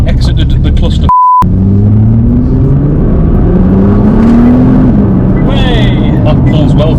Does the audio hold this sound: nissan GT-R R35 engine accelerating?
yes